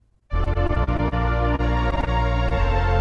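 Synthesized strings on a keyboard with four-part harmony, swelling into a full orchestral sound that starts abruptly and holds loud and dense, alone.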